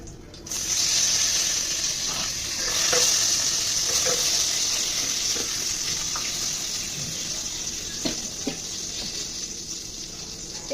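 Oil heating in a pan on the stove sizzles with a steady bright hiss, with a few scattered soft pops and clinks over the crackle.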